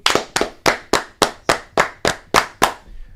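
Ten sharp hand claps, evenly spaced and close, ring out one after another at a steady pace with no talking over them.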